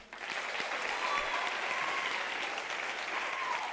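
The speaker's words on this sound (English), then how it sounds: "Give her a round of applause" Graduation ceremony audience applauding a law graduate, a dense, steady wash of clapping that starts almost at once and holds at a loud, even level throughout.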